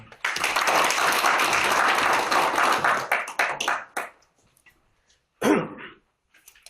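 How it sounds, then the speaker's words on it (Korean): Audience applause at a judicial scriveners' forum on reforming the court bailiff system, a dense burst of clapping for about four seconds that thins to scattered claps, followed by a short spoken phrase. "좀 큰 박수로 의견을 듣겠습니다."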